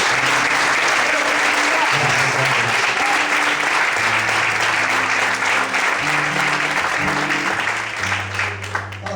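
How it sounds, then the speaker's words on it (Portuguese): A church congregation applauds during an evening evangelical service, a loud, sustained wash of clapping running the full length while sustained organ or keyboard chords play underneath. "Você pode aplaudir o Senhor nessa noite?"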